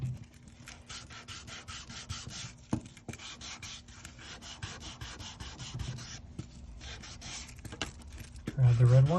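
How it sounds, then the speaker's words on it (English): Leather rubbed with 800-grit sandpaper glued onto a wooden block gives steady, close scratchy strokes in a quick back-and-forth rhythm, with a brief knock near the end. "this is just sandpaper that's glued onto wood. Makes it a little bit easier for me to sand."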